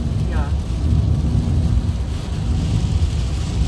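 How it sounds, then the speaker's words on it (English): Heavy rain pours steadily on a car during a storm in Chilliwack, a dense continuous wash of noise close by that never lets up, with a low rumble underneath. "is the rain here much stronger?"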